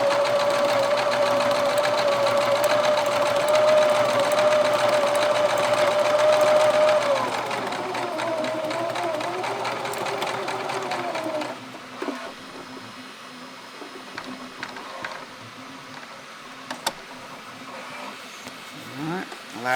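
A sewing machine stitches a nameplate onto a football jersey, running in a loud, steady whir for about seven seconds before slowing and dropping to a quieter hum with light clicks and handling noises.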